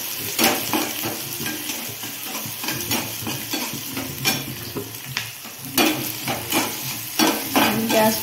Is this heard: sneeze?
no